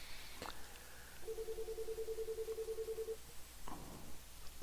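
Telephone ringing in a steady electronic trill of rapid repeated pulses lasting about two seconds, faint and fairly distant, with brief clicks before and after.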